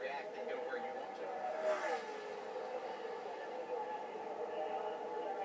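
Race car engine at speed during qualifying at Daytona, a steady sustained drone with a brief surge, heard under a commentator's talk.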